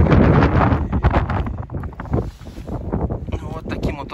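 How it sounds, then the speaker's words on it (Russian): Strong outdoor wind buffets the microphone in loud, rolling gusts with low rumbling throughout, on a very windy winter day beside a Lada Granta whose radiator grille is covered with pipe insulation. "Сегодня у нас очень ветрено. Извиняюсь заранее за ветер."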